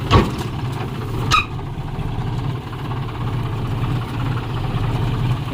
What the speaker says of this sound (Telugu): ట్రాక్టర్ ఎట్లా ఎక్కుతుందో చూద్దాం